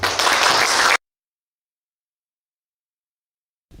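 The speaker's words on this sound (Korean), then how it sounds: "시민 여러분들의 뜨거운 환영 박수 부탁드립니다." Applause from a lecture-hall audience welcoming a professor to the podium: dense, loud clapping for about a second, then abrupt silence.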